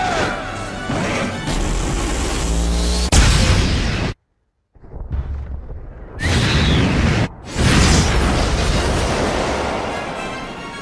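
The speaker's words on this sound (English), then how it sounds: "Antimatter particle cannon! Justice arrow! Fire!" An antimatter particle cannon fires and detonates in The Wonderful 101, loud crashing blasts that roar for seconds, cut by a sudden silence, then more heavy explosive rumbling and bursts.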